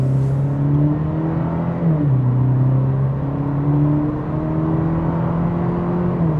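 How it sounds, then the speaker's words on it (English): A 2026 Cadillac CT4 Premium Luxury in sport mode, with artificial engine sound added, revs steadily under acceleration: a loud, continuous droning hum whose pitch climbs, drops briefly at a shift, then rises again, with no talk over it. "We get some artificial engine noise too in sport mode."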